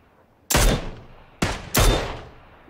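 Three loud, close gunshots in a video game: one blast, a short pause, then two more in quick succession, each with a decaying tail.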